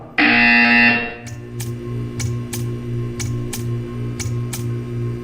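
A loud, harsh buzzer sounds for about a second in a Portal 2 test chamber, followed by a series of sharp, evenly spaced clicks over a low mechanical hum.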